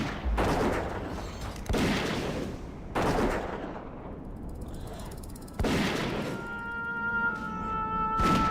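A Dwarf Hunter's gun firing in World of Warcraft Classic Hardcore, several loud, close shots spaced a second or more apart, with ringing game tones sounding toward the end.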